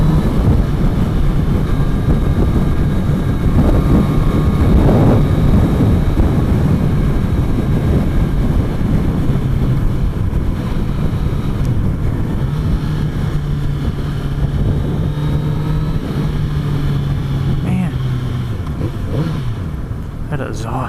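A 2018 Kawasaki Z900RS motorcycle on the move, its exhaust giving a steady, loud engine drone mixed with heavy wind rush, recorded close from the rider's position with no talking.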